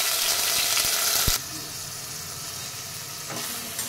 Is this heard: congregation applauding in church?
no